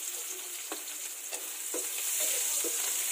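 Garlic and other ingredients sautéing in a pan for tomato-stewed tuna, a steady bright sizzle with a few soft stirring scrapes, close and alone.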